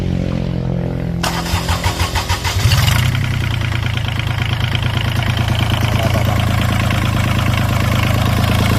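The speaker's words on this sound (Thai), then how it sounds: "ลองสตาร์ทกัน" An old Japanese ISEKI three-cylinder diesel engine cranks with a rhythmic starter churn for a couple of seconds, then catches and settles into a loud, steady, close-up idle.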